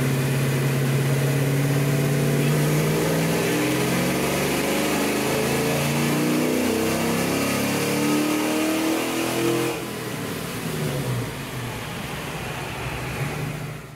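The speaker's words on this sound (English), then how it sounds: "let's get this thing on the dyno and see if we can make some more horsepower" A V8 car on a dyno with AFR 205 heads, Pro-M EFI, a Comp Cams XFI camshaft and a Flowmaster 50 series Delta exhaust, revving hard in one sustained loud run with a rising engine note before easing off.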